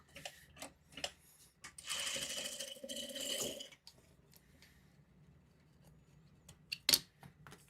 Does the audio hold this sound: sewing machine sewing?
yes